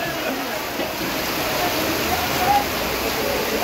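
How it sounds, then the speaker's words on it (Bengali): Heavy rain pours over a large wholesale fish market in Jatrabari, a steady, broad rushing hiss that holds at an even loudness throughout. "বিশাল বৃষ্টি হচ্ছে।"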